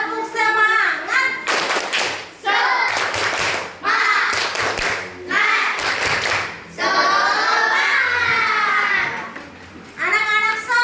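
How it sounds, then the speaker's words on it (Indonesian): A group of children claps in sharp rhythmic bursts between chanted Indonesian phrases, loud and close, alternating voices and sets of claps. "Coba tepuk semangat dulu."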